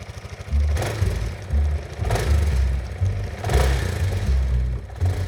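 The engine of a Yamaha-Linhai D400 4x4 ATV cranks and then runs at idle with a low pulsing throb and periodic rises in revs, close and loud with no voices.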